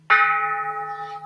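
A single bell struck once during a Buddhist service, ringing out with a bright attack and a long, steady, shimmering sustain of clear overtones that fades only slightly, heard alone without voices.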